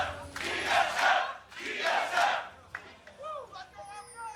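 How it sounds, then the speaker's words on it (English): An esports arena crowd chanting at a League of Legends LCS match between TSM and OpTic Gaming, two loud rhythmic swells of massed voices followed by scattered shouts and a fading roar. "Familiar chants coming through once again."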